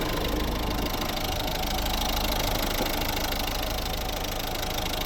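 A 2011 Mazda 5's 1.6 D2 Peugeot-Citroën turbodiesel idles steadily up close, bonnet open, a continuous low rumble with a fine knocking clatter, running evenly without change.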